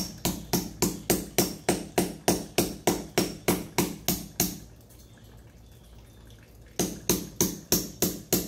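Hammer lightly tapping a metal sleeve of a hose hanger into a wall, a steady run of sharp, close knocks in quick rhythm, pausing for about two seconds before the tapping resumes.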